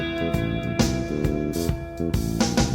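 A music recording plays sped up and raised in pitch, with quick repeated plucked or keyed notes and punchy percussive hits, bright and dense, no voices.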